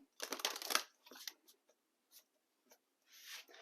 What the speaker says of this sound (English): why I feel the need to shuffle this way